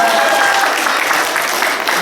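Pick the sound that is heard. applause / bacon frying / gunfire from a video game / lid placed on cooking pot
applause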